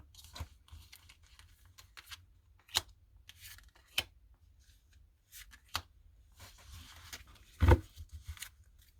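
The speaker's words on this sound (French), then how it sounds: "je vais tirer les cartes parce que je me suis aperçue que ce sera plus facile" Oracle cards are drawn one by one from a deck during a tarot-style reading, giving sparse soft swishes and sharp card snaps at uneven intervals, close and fairly quiet.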